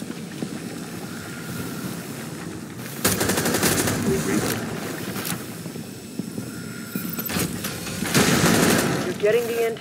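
Machine gun fire in the video game Rainbow Six Extraction, set in a San Francisco casino and resort, comes as two loud, sustained bursts over steady background rumble while voices call out.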